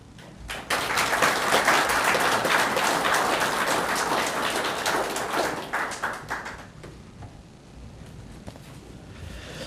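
Applause from an audience at the opening ceremony of a Korean research institute, a dense burst of clapping that rises quickly, holds loud for several seconds, then thins and fades toward the end.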